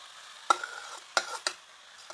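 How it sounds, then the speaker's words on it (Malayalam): A spoon stirs pumpkin into a coconut and jaggery syrup, making three distinct scraping strokes against the pan over a faint, soft sizzle, close up and without talk. "നന്നായിട്ടങ്ങ് ഇളക്കി മിക്സ് ചെയ്യണം കേട്ടോ"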